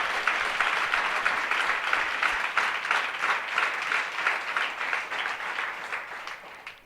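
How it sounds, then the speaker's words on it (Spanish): A church congregation applauds at an evening worship service, steady sustained clapping from many hands in a large room, moderately loud and continuous with no talk over it. "Fuerte aplauso al Señor."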